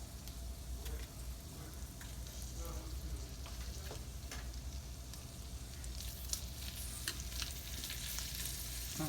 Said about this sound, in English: Okay, so we're going to let this fry for a couple of minutes.